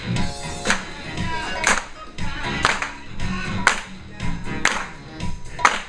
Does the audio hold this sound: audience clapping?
yes